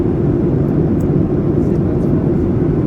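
Steady, loud, broadband roar inside the cabin of a Ryanair Boeing 737-800 in flight, a dense low rumble that stays constant without a break.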